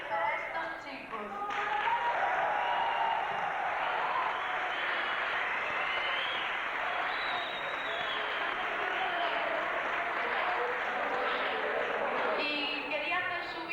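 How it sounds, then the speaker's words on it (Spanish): An audience at an orchestra and band concert gives sustained applause for an artillery group, a dense wash of clapping lasting about ten seconds, with a voice speaking briefly before it starts and again as it fades. "Un fuerte aplauso especialmente para estos chicos."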